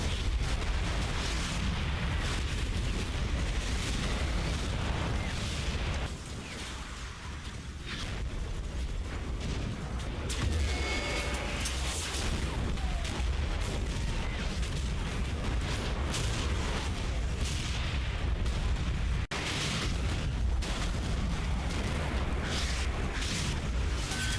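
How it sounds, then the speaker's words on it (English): A heavy German artillery barrage pounds a T-junction in Combat Mission Final Blitzkrieg, with continuous rumbling blasts and crackling impacts overlapping for over twenty seconds, steady and dense, with no one talking. "Without warning, a heavy German barrage hits the T-junction."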